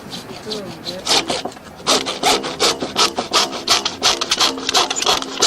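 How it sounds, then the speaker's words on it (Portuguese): A hacksaw cuts through plumbing pipe for sewer fittings with a fast run of rasping back-and-forth strokes, loud and close, rhythmic and steady with no talk over it. "Com o arco de serra, você vai serrar os tubos no tamanho certo."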